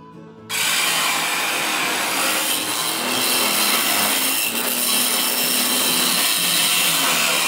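A saw cuts notches into the frame around an opposed twin engine block, a loud continuous rasping grind kicking in after a brief quiet start and running steadily with slight surges.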